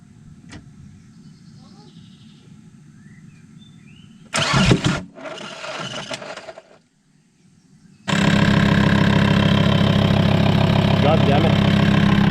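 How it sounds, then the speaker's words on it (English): A VW T5 van with a warped exhaust manifold cranks briefly and catches, then after a short pause roars into a loud, steady high-revving run, with people talking quietly before it. "It's connected so we can try and start the car."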